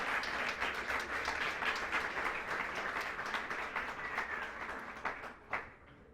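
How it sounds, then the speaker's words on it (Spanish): A church congregation applauds together, a dense, steady wash of clapping that carries on for several seconds, then thins out into a few scattered last claps. "¿cuándo le dan un aplauso al Señor?"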